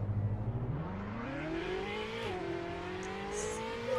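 A Ferrari 854 engine revs steadily in a Roblox car dealership tycoon game, the pitch climbing and holding loud and continuous for several seconds with no talk.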